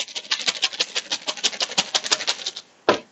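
Game tokens shuffled in a bag for the board game Warp's Edge: a rapid run of dry clicking and rattling about two and a half seconds long, close and steady, ending in one final louder rustle.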